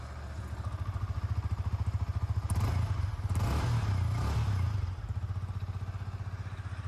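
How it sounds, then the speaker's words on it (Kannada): A Yamaha R15 V4 motorcycle idles through its stock silencer, a close, steady rapid low thrum with a deeper, rougher stretch of louder engine note in the middle before settling back to idle. "ಸೈಲೆನ್ಸರ್ ನೋಟವನ್ನು ಕೇಳ್ಕೊಂಡು ಬರೋಣ ಯಾವ ಥರ ಬರ್ತದೆ ಅಂತ."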